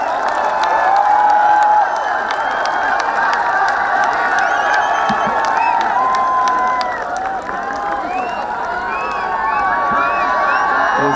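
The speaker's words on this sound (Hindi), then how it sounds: "तो जोरदार हाथ उठाकर तालियां बजाइए, राहत साहब का इस्तकबाल कीजिए" A mushaira audience bursts into sustained applause, dense clapping with cheers and whoops from a large crowd, loud and continuous across the whole stretch.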